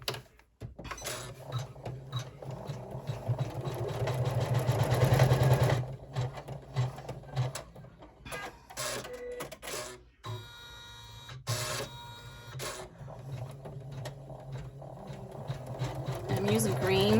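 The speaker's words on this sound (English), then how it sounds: "we're going to stitch the next fold line" Embroidery machine stitching a fold line on a 5x7 in-the-hoop bag: a steady, close mechanical whir of rapid needle strokes that speeds up and pauses, with a voice talking over it.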